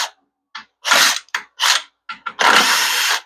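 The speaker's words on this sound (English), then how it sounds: "Get these 3 little bolts out here, these 8mm bolts." A power drill spins out small 8mm bolts from the valve body accumulator plate of a Ford 4R100 transmission, in several short close whirring bursts with brief pauses, ending in a longer run.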